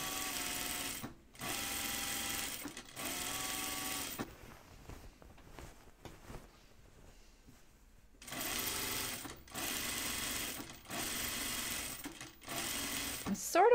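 A sewing machine stitches through unlined jacket fabric in steady bursts, each run lasting about a second or more with short pauses between, then a longer stop before the stitching resumes.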